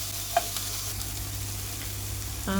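White onion stirred in a pot for chicken soup, a steady soft sizzle with a few faint scraping clicks of the spoon, close by and without talk.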